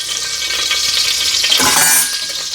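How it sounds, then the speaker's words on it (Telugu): Ghee and oil heating in a pan for pongal, a loud, even hiss of sizzling fat that swells briefly near the end, with no voices. "ఇది కొంచెం వేగాలి ఎందుకంటే నూనె కాగాలన్నమాట"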